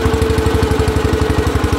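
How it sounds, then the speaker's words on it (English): A tractor engine runs steadily close by, a loud low chugging with a fast, even pulse and a constant hum, alone without talk. "Maybe I can speed it up without stalling the tractor out"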